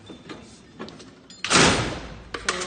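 Tool cart drawer sliding open, a few light clicks and rattles followed by a louder rolling slide of the drawer with metal contents clinking, close by and with no talk.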